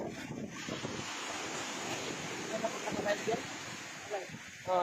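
Ocean waves wash and roll continuously on a sandy beach at Dingalan, mixed with wind buffeting the microphone, while faint voices murmur in the background.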